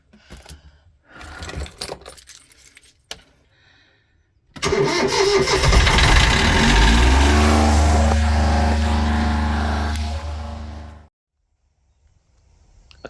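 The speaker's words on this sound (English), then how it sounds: "I couldn't quite believe how easy it was to start the engine after 9 months of being sat there not doing anything" An inboard boat engine, sitting unused for nine months, cranks and fires into a loud, steady running drone for several seconds, then cuts off abruptly into near silence, with faint clicks and handling noises before.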